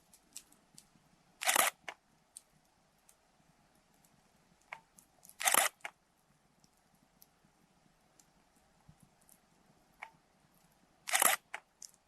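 A single-lens reflex camera shutter clicks three times, well spaced, each a sharp close mechanical snap over a quiet outdoor forest background with faint scattered ticks.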